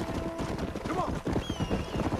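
Horses in the Western video game Red Dead Redemption, rapid hoof clip-clop under steady ambient wind noise, with a person talking over it.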